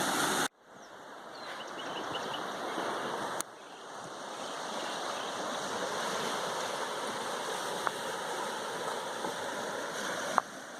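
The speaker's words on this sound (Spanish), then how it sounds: "Ya nos encontramos unos metros río abajo de la confluencia del río Verde y del río Santiago." A river flows just downstream of the confluence of the Verde and Santiago rivers near Tonalá, Jalisco, a steady broad rushing wash that continues throughout with a few faint clicks.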